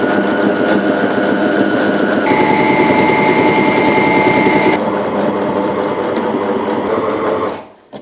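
A sewing machine runs loud and steady, stitching the front facing seam of a bomber jacket in one continuous run that shifts pitch partway through and then slows to a stop.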